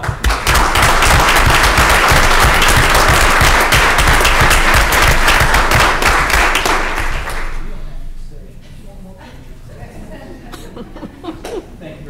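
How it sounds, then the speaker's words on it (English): An audience at a school board meeting applauds loudly for several seconds, with whoops and scattered voices, then the clapping fades to a few remaining claps and murmurs. "Another round of applause."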